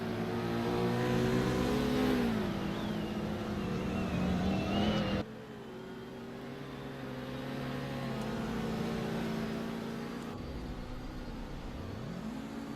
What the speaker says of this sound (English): There's a car that sounds like it's having some issues back there.